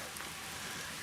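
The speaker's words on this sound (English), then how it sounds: "it started raining again" Rain falls at a campsite in a soft, continuous patter, a faint, even hiss of drops on surfaces with no voices.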